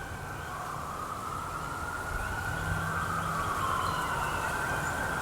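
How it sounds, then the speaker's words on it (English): A siren wails steadily in the distance, its tone rising and falling over continuous traffic rumble, with no voices. "it's always serious when you hear those sirens"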